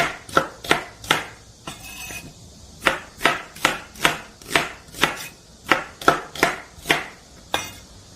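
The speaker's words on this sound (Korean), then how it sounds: "양파를 썰어서 준비해 놓으세요. 그냥 대충 듬성듬성 써시면 돼요." A knife chops onion roughly into coarse chunks on a cutting board for a zucchini and salted-shrimp side dish, the blade landing in about fifteen sharp, close knocks in a steady rhythm with a short pause partway through.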